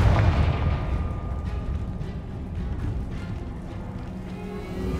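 In Hogwarts Legacy, a Confringo spell goes off as a continuous rumbling, booming blast, loud and dense throughout with a sharper burst at the start.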